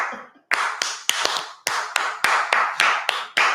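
A dozen or so firm hand claps from people clapping along together at a live session, close and evenly spaced in a steady rhythm, with no talking in between.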